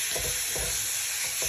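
Garlic and onion fry in rendered pork fat, giving a steady close sizzle with light stirring scrapes throughout.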